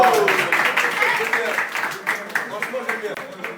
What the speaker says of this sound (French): Et vous pouvez les applaudir.